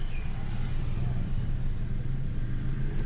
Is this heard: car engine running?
yes